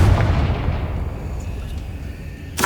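A Confringo blasting spell in Hogwarts Legacy goes off as a loud, close boom. A broad rumble decays over about two seconds, and a second sharp burst comes at the end.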